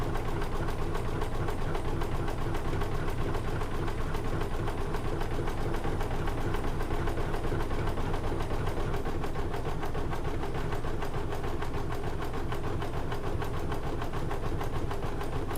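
A home embroidery machine stitches out the number 2 in red thread, running as a steady, rapid mechanical chatter that stays close and even throughout, with no talking over it.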